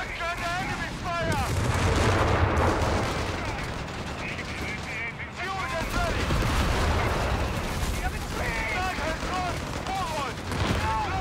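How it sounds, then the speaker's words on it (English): German machine gun fire in the strategy game Company of Heroes 3 rattles in dense, sustained bursts with explosions and battlefield clamor, while soldiers' voices call out over the shooting. "Maschinengewehr has opened up!"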